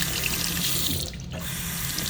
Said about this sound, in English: This one's not too bad. You get a good splash.